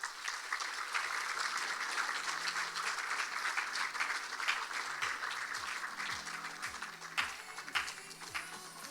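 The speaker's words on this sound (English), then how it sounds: "Give them a round of applause as they leave the stage." A room of spectators at a fall festival pageant gives sustained applause as contestants leave the stage, fairly distant and even, with a few louder claps near the end.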